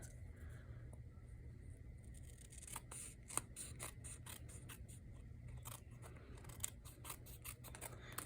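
Scissors snip away excess paper from a junk mail envelope, a string of short, crisp cuts at an uneven pace over a low, steady background hum.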